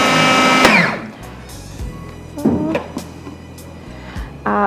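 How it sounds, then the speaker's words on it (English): A kitchen blender whirs loudly at a low speed setting, then cuts off, followed by scattered clunks and rattles of the jar and lid nearby. "blender is on"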